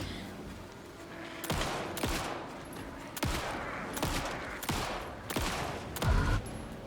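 A series of sharp gunshots in the Alan Wake II video game rings out, about half a dozen loud cracks a second or so apart, each with a short decay, and no talk over them.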